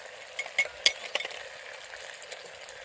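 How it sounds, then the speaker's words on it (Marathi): Masala and sauces for gobi manchurian are sautéed and stirred in a pan, a soft sizzle broken by several sharp clinks and scrapes of a spoon against the metal, close and intermittent. "ते आपण चांगलं परतून घेऊया, मिक्स करून घेऊया मसाला सगळं"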